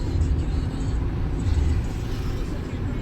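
Steady low road rumble from inside a moving car carrying a baby, continuous and fairly loud throughout with no talking.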